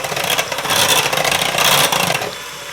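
Waffle batter mix, apple cinnamon style, is whisked smooth in a bowl, making a steady close scraping and rubbing churn that runs for a few seconds and then eases off.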